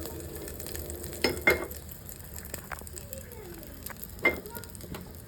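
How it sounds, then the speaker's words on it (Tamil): Hot tempering hits mint and coriander chutney with a few sharp sizzling bursts, fairly faint and brief, with quiet frying crackle in between. "இப்போ வந்து இந்த தாளிப்பை வந்து கொட்டிடலாம்"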